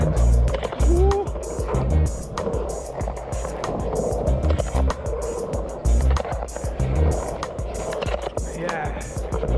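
Skateboard wheels roar steadily as the board rolls fast through a skate bowl and over its humps, the rumble surging and dipping with each rise, loud and close throughout with occasional brief vocal sounds over it.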